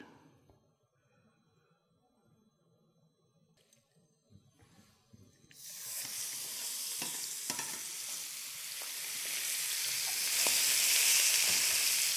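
Quiet kitchen sounds give way at about five seconds to a loud, steady sizzle of salted and peppered chicken frying in a reheated pan, with occasional pops and crackles.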